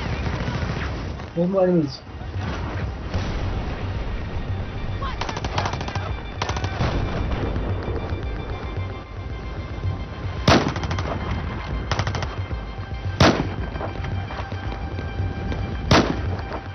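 Sustained machine-gun fire and gunshots in the Battlefield 4 video game, a dense, continuous rattle with a few sharper cracks standing out, while someone talks briefly over it.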